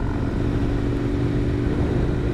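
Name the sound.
motorcycle accelerating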